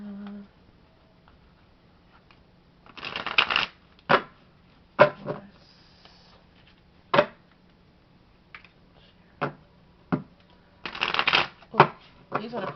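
Tarot cards are shuffled in several short bursts of riffling and slapping, close and crisp, with quiet pauses between the bursts. A faint voice is heard at the very start.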